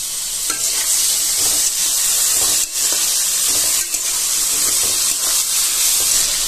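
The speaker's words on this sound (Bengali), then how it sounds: "চিংড়ি মাছগুলো ভেজে নেব।" Prawns rubbed with salt and turmeric sizzle and spit in hot mustard oil, a loud, continuous frying hiss with occasional stirring clinks and scrapes close by.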